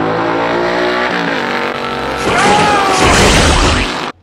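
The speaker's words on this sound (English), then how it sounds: "this car is stuffed with 396 cubic inches of turbojet power" A 1965 Corvette with a 396 cubic-inch big block Chevy engine, solid lifter cam and Holley carburetor roars loudly up close in a drag race, engine revving and shifting through rising pitch with some tire squeal before cutting off.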